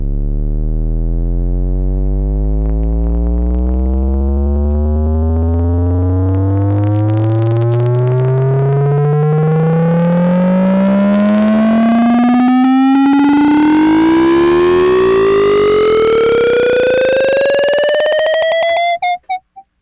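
A buzzy Bass Station II synthesizer tone with overdrive, distortion and resonance sweeps steadily upward in pitch for nearly twenty seconds, gritty with a resonant edge, loud and alone before cutting off.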